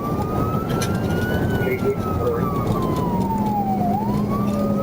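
A police car siren wails steadily and loudly in a rising and falling sweep, heard alongside the drone of road traffic during a pursuit.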